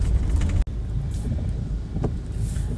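A car driving on the road gives a steady, loud low rumble of engine and road noise throughout, with one momentary dropout and no voices.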